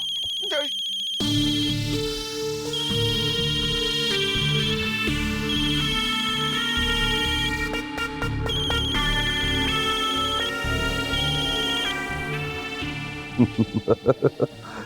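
A telephone rings repeatedly in a steady electronic trill over background music and ambient noise, ending with a few sharp clicks.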